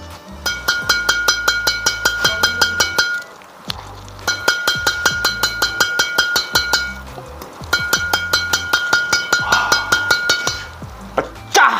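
Strung carbon badminton racket, a Hi Qua Black Gama, tapped in quick rhythmic bursts of bright metallic pings, three runs of about a dozen taps each separated by short pauses, close and clear with no talking.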